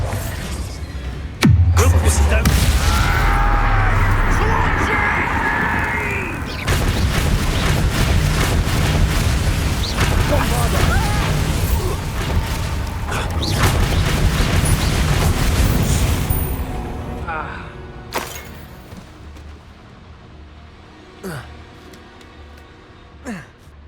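A Bombarda blasting spell goes off in the Hogwarts Legacy video game: a sharp loud blast followed by a long rumbling, crackling roar of debris that fades over many seconds into quieter scattered clatters.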